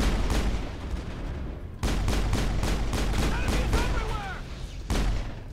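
Rapid pistol gunfire from Mass Effect, a string of sharp close shots in two bursts amid dense game combat noise, with brief voice-like sounds mixed in.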